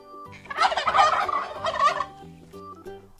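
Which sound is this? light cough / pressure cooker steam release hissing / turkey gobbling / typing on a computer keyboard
turkey gobbling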